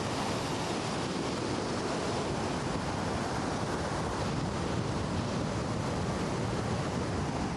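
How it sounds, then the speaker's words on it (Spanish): Ocean waves pounding the base of the main walkway of a port pier along a coast after a strong earthquake, a steady loud roar of surf mixed with wind buffeting the microphone, with no voices. "Se mantuvo con olas que golpeaban la base del corredor principal del puerto."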